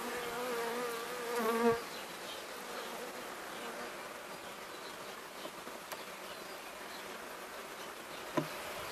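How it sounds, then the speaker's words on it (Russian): Honeybees hum in a continuous buzzing drone close by around hive frames, with a few faint clicks and knocks. "здесь мы видим, что пчелы много"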